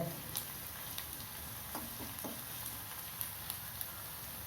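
Garlic with salt sautéing in oil for a Tamil spicy puffed rice recipe, a steady close sizzle and crackle holding throughout with a few light spatula scrapes and ticks.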